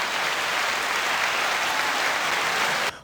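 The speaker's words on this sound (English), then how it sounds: "Give her a round of applause." A podcast audience applauding a guest, dense continuous clapping that holds steady for about three seconds and then cuts off abruptly.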